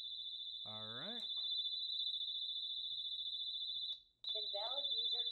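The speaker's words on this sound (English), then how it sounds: "I'm going to activate the alarm on the panel by opening the front door sensor." A home security alarm panel goes off when the front door sensor is opened. It gives a continuous high-pitched electronic beep that cuts out briefly near the end, with a voice speaking over it at the start and finish.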